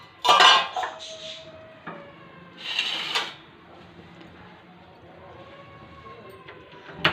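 A ladle knocks and clinks against a cooking pot as egg curry is served out, with a bright clatter at the start, another around the middle, and softer scraping in between.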